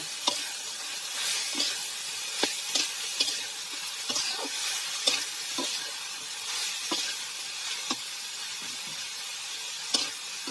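A vegetable bhaji with turmeric and salt stir-fries in a pan, a continuous close sizzle broken by repeated sharp scrapes and clinks of a spatula at an irregular rhythm, with no talk.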